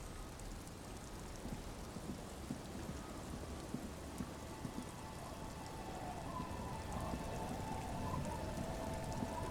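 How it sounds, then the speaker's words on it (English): Steady rain pours and patters across the night streets of Disco Elysium, a dense continuous hiss with scattered drips; no one speaks. "It's getting late, and it's raining."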